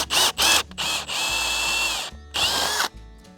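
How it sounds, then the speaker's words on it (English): A power drill fitted with a 3/4 inch bit bores holes in horse fencing. Short high-pitched whirring bursts are followed by a sustained loaded drilling run, then another burst, all close and loud with no talking. "We need to use a 3/4 inch drill bit to bore out the holes."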